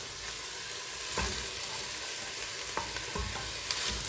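Chopped carrots, onions and garlic stirred in sizzling olive oil in a pan for lasagna, a steady close frying hiss broken by a few soft scrapes of the spoon.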